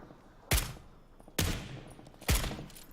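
Three evenly spaced shots from a suppressed Mini 14 rifle in the battle royale game PUBG, each a sharp close crack with a short fading tail and quiet gaps between, no talking.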